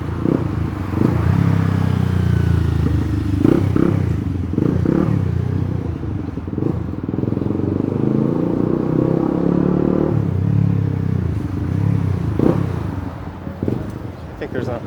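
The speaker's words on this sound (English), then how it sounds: "I think there's a motorcycle behind me trying to split these lanes" Motorcycle engine rumbling behind a cyclist in city traffic on Dufferin Street in Toronto as it tries to split lanes, steady and close amid road noise and clatter, with someone talking over it.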